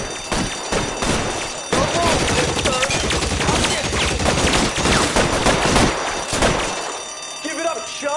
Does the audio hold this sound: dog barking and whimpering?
no